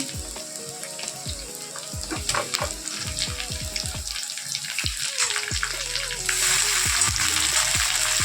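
Chopped tomatoes drop into a pan of half-fried onion and set off a loud, close, watery sizzle. A run of soft thuds and stirring clatter sits over it, and the hiss grows stronger toward the end.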